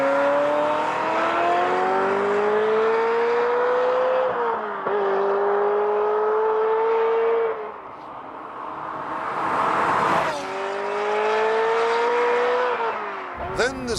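A Ferrari engine revving hard, loud rising and falling tones as it climbs through gears, with brief pauses between pulls and a sharp burst at the very end, close and dominant.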